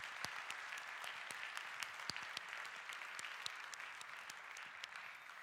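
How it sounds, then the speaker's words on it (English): A church congregation gives sustained applause on a Sunday, a dense wash of many hands clapping with sharp individual claps standing out, steady and moderately distant with no talking. "can we give them a round of applause for who they are?"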